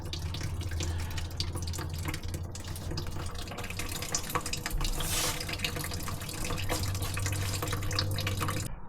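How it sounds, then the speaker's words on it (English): Old gasoline drains from the gas tank of a 1952 Chevy truck in a steady, continuous splashing stream with a low hum beneath, close by and unbroken for several seconds. "We do have an unplugged gas tank."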